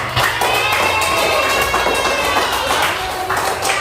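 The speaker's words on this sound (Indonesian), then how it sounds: "tepuk tangan untuk Cecilnya" Students in a classroom applaud a classmate, a loud dense spell of clapping mixed with children's cheering and chatter, sustained at close range throughout.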